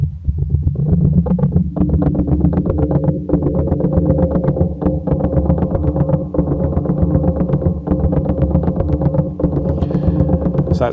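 A dense, low, rumbling wash of sustained distorted guitar tone from a frozen reverb tail of three guitar notes, pitched down an octave, with a throbbing pulse, thick and murky, holding steady throughout.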